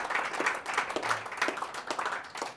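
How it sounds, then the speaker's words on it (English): An audience at a concert breaks into a round of clapping, with bursts of hand claps in a loose rhythm, moderately close and uneven. "Give yourself a round of applause."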